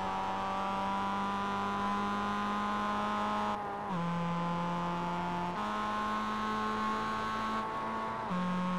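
Race car engine from a sim racing video game at Summit Point, a steady high drone with rich harmonics, its pitch dropping at each gear change and then climbing again, loud and continuous with no talk.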